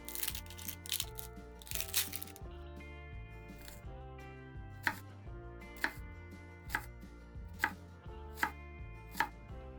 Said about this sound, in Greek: Συνεχίζεις με το κρεμμύδι, που το ψιλοκόβεις,